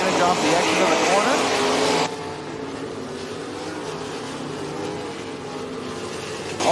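Dirt track race cars roar around Eagle Raceway in Eagle, Nebraska, a loud continuous engine drone that drops sharply partway through and then carries on more distantly, with an announcer talking over it.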